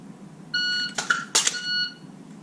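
Shot timer beep for a dry-fire reload drill, a single steady electronic tone at moderate level, broken partway through by sharp handling clicks and clatter of the reload.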